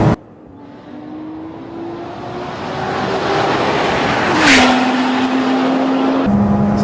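A Lotus Exige S engine pulls hard on a race track, rising steadily in pitch up through the gears with one sharp shift change, loud and close, with no talking over it.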